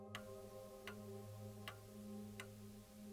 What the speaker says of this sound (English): The clock had restarted.